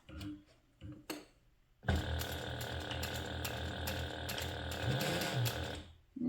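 A sewing machine stitches a half-inch seam on a handbag with interfacing, a steady mechanical whirring run for about four seconds after a few soft handling noises, close and fairly loud.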